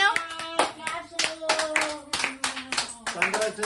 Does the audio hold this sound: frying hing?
no